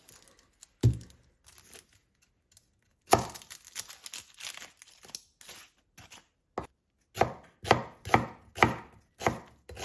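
Onion chopped on a board with a professional kitchen knife: one sharp chop, a pause, then bursts of quick crisp cuts building into a steady rapid rhythm, close and clear with no talk.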